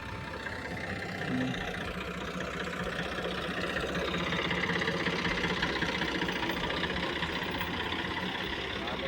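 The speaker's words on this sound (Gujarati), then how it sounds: "ટ્રેક્ટર આવી ગયું છે એના સામાં ચડી ગયું છે" A tractor engine runs steadily in a chilli field, giving a close, continuous low rumble and chug that swells slightly after the first second and then holds at an even level, with no talking.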